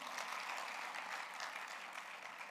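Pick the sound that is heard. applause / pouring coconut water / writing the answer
applause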